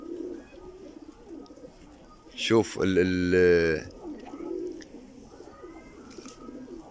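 A pigeon gives a rising, throaty coo with a wing flutter just before it, heard near and clear, with people talking quietly around it.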